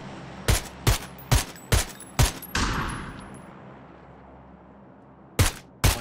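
Gunfire in the video game PUBG: five sharp, evenly spaced shots, then a heavier blast with a long fading tail, and two more loud cracks after a pause.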